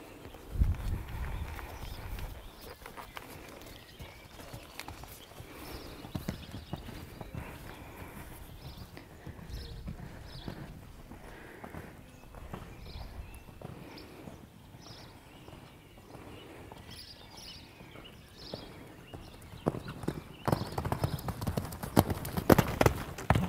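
Horse hooves clip-clop steadily through a show-jumping riding lesson, a low continuous rhythm of footfalls with brief louder thuds near the start and toward the end.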